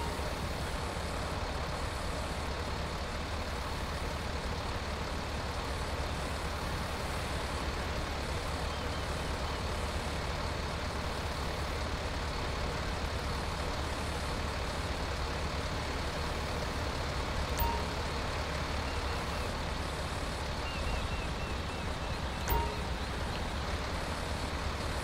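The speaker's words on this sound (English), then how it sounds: "We're going to winch it forward a little bit more, try to get it completely onto the ground" Heavy duty wrecker truck in GTA 5 winching an RV out of water, a steady low engine drone holding throughout with no pauses, moderately quiet, joined by a couple of faint clanks near the end.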